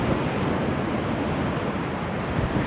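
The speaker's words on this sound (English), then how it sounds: "so breezy and windy" Strong wind roars steadily across the Blackpool seafront promenade, a dense continuous rush buffeting the microphone with no pauses and no voices.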